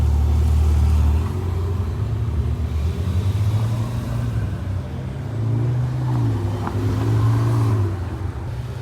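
Many Ferrari sports cars rumble and rev during a large parade at the Spa-Francorchamps circuit, deep engine drones overlapping in a continuous loud wall, with rising revs surging in and out.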